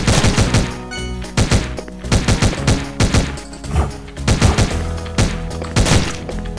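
Repeated bursts of gunfire in the video game Omega Strike, several clustered volleys of sharp shots spread across the stretch, loud and close with no talking.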